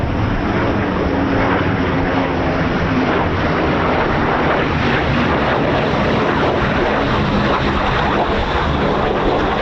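F-15 fighter jet flying past, a constant loud, dense roar with rumbling low end and slight wind buffeting, sustained without a break for nearly ten seconds.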